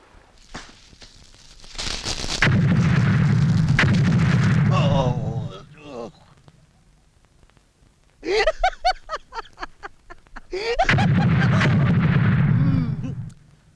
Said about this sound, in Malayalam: നീ ഇങ്ങനെ വെടി പൊട്ടുമ്പോ പൊട്ടുമ്പോ ഞെട്ടാൻ തുടങ്ങിയാലോ ശശാങ്ക